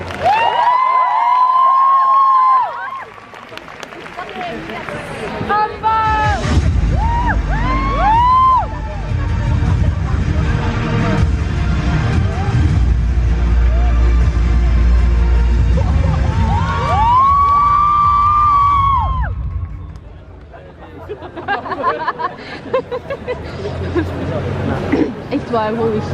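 A loud crowd cheers and screams for a 2B and 9S cosplay pair at the Made in Asia 2019 cosplay contest, with whistle-like shrieks, dense babble and a roaring peak in the middle before it tapers off.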